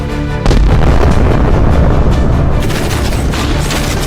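Heavy booming blasts and weapon fire from a giant robot battle in a sci-fi action scene, a sudden loud impact followed by sustained rumbling explosions and crackling gunfire.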